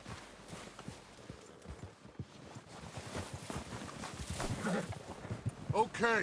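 Horses approach with clip-clop hoofbeats in the Red Dead Redemption 2 video game, a faint irregular patter of hooves growing louder toward the end, while someone briefly speaks over it.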